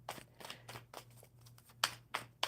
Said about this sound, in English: I'll shuffle them until I get 3.